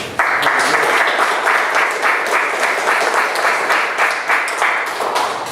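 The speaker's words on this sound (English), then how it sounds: "I think that the volunteers of the committees deserve a round of applause." A roomful of people at a community board meeting claps for committee volunteers, a loud, sustained wash of many hands that holds steady throughout and tapers slightly toward the end.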